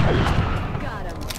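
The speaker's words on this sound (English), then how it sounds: "Well, of course your weapon's empty, you've been shooting things." Rapid weapon fire from the XCOM strategy video game, a dense burst of repeated shots and booms filling the whole moment, loud and continuous with a voice faintly present underneath.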